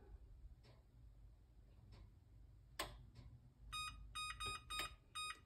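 An oven timer being set for baking banana loaf bread gives a few faint ticks and clicks, then a quick series of short, sharp electronic beeps close by.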